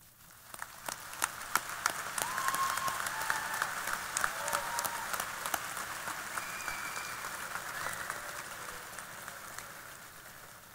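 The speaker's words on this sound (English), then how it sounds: "Join me in applauding the outstanding achievements of these 16 students." Applause for sixteen honored students at a 2023 Hanahan High School graduation ceremony, rising from a few claps into a broad, distant-sounding ovation that holds steady and tapers slightly.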